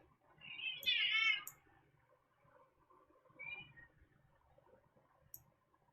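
Indoor house cats let out a loud drawn-out meow, then a shorter one a couple of seconds later, amid faint scuffling and clicks, fairly close and otherwise quiet.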